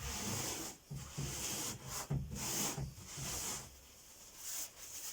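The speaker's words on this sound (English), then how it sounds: "Just give the area wipe down" Cloth rubbing across a fiberglass kayak hull to clear dust and grease before resin work, a close, soft scrubbing in repeated strokes with brief pauses between passes.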